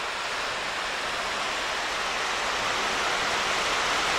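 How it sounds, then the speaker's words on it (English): Steady, broadband rush of water running over old stonework at a Civilian Conservation Corps camp in Pennsylvania, a continuous even flow with no pauses, sitting close by, with no voices present. "you can see this, the actual stonework that the water is running over"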